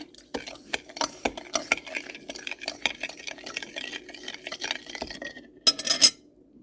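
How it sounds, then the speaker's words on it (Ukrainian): A utensil stirs kefir and sugar batter in a bowl with repeated quick scraping clinks and knocks, ending in a brief louder metallic rattle. "Перемішуємо."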